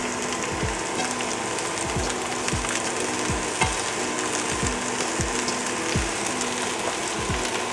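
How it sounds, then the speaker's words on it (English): Onions and vegetables hit about two ounces of rippling hot oil in a pan over medium-high heat, giving a steady, close sizzle with a low swooping tone recurring every second or so. "So now that oil is rippling, then I'll add all of the onions"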